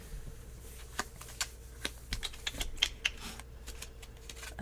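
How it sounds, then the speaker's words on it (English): Cards for the Tawantinsuyu board game are shuffled and handled at a table, heard as scattered soft clicks and taps, quiet and close over a low room hum, with nobody talking. "I gotta shuffle these guys in."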